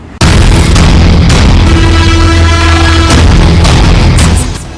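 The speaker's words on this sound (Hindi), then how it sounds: "दरभंगा स्टेशन पर हुए पार्सल बम विस्फोट से पूरे हिंदुस्तान में तहलका है।" A parcel bomb explosion at Darbhanga railway station: a sudden loud blast that strikes abruptly and then stays as a heavy, roaring rumble until it cuts out near the end.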